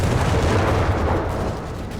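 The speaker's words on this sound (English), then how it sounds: "there we go, massive explosion there" Heavy booming blasts from 75mm howitzer fire in the strategy game Company of Heroes 3, a dense, loud low rumble of explosions rolling steadily through the whole stretch before easing slightly near the end.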